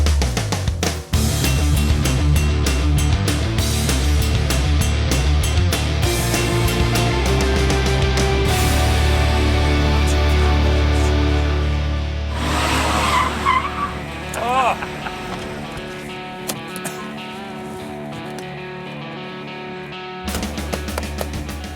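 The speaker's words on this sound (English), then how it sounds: "This is a 2004 Holden Monaro, an Australian icon." A 2004 Holden Monaro V8 roars loudly and continuously as it drives, with skidding, tire squeal and racing engine noise, easing off briefly before the engine surges again near the end.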